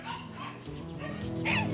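A cocker spaniel yips and barks in a string of short, excited calls mixed with whimpers, close by and moderately loud, growing more insistent toward the end.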